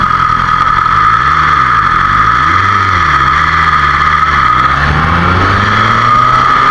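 A 2020 BMW S1000RR sport motorcycle in racing mode, its engine revving loud and close in repeated rising and falling sweeps that climb to a sustained high whine near the end.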